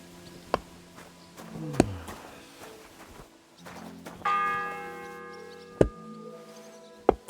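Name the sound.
church bell ringing in Kingdom Come: Deliverance II video game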